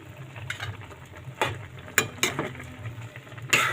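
Chicken adobo with potatoes in a pan: faint steady sizzle with a few sharp scraping clinks of a utensil against the pan, close and quiet, no talking.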